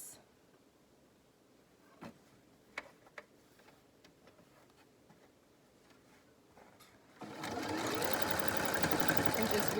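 A sewing machine stitches the corner of a fabric cloth mask with elastic between two layers, giving sparse close ticks and clicks before a steady loud whirring run starts near the end.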